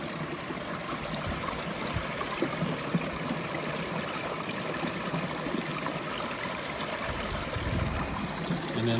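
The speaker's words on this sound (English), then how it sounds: "It's an underground spring." Underground spring water trickling out of a rock boulder field, a steady close, bright babbling and splashing flow that runs evenly throughout with no voices.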